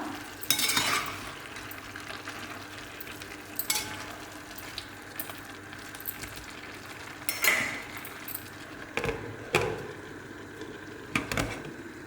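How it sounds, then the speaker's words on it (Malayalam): A spoon stirs chicken curry masala in a pan, giving scattered scraping and clinking strokes every couple of seconds over a soft, steady frying hiss, with no one talking. "ഇളക്കി കൊടുക്കാം നമുക്ക്"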